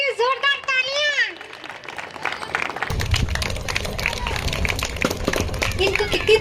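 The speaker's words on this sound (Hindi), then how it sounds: "इनके इकलौते माउंटेनियर के लिए जोरदार तालियां" Applause in an indoor gathering honouring a mountaineer, a dense clatter of many hands that starts a few seconds in and keeps going steadily beneath someone talking over it.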